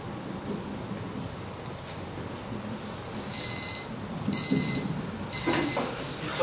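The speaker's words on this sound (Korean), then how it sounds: "저 알람의 단점은 소리가 크다는 거예요" A small alarm timer beeps loudly in bursts, piercing electronic chirps that start and stop in pulses over a windy, rumbling indoor background.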